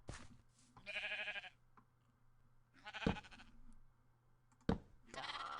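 Sheep in the Minecraft video game bleat in three or four separate short calls, spaced a second or two apart and fairly quiet, with no talking.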